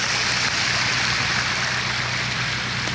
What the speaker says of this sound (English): you've got a little sort of runoff weir here, water going down to a culvert down there